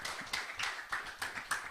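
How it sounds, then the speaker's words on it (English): A community forum crowd in Ghana claps to welcome the Area 1 Assemblyman, a fairly faint, distant round of applause with a few stronger irregular bursts of hand claps. "let's welcome him with a round of applause"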